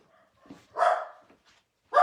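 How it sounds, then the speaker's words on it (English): Dogs bark in a few sharp bursts, one loud bark near the middle and another at the end, with quieter yips in between. "Might just go and close the door so you don't hear the dogs."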